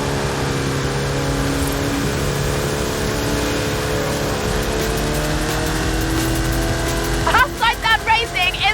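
Engine of a race car in Forza Horizon 5, droning steadily and loud throughout, with a higher chattering burst of revving near the end.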